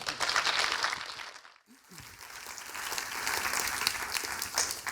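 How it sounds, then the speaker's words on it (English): Applause from a conference keynote audience, many hands clapping steadily, briefly dipping then swelling again and continuing. "give a rounding applause to Chris."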